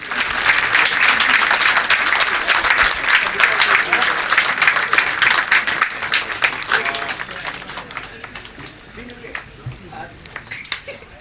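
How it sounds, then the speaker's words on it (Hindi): Sustained audience applause at a police passing-out parade for IPS probationers, dense clapping from a large crowd that stays loud for several seconds and then thins toward the end. "दर्शकों से अनुरोध है कि तालियां बजाते रहिए।"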